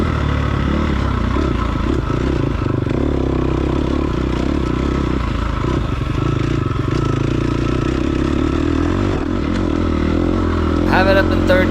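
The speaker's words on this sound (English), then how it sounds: "I have it up in 3rd gear, you can hear that lugging a little bit" Dirt bike engine lugging in 3rd gear through sand on a riding course, a loud, steady low-pitched drone with rough clatter throughout, a rider's voice faintly over it.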